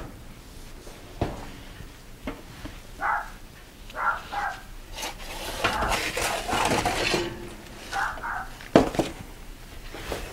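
A roast turkey comes out of a home oven with clanks and scrapes of a metal pan and rack, scattered knocks, and a dog yipping now and then in the kitchen.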